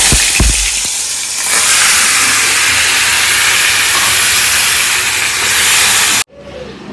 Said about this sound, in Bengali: তো এবার পুরো এই ম্যারিনেটেড চিকেনটা ঢেলে দেবো